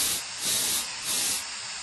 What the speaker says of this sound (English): That sound you're hearing is like a tea kettle.